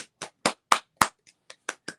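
Close, crisp handclaps, roughly nine in a quick, slightly uneven run with a soft one midway, each separated by dead silence rather than a crowd's blended roar, from the audience of a newscast-style show.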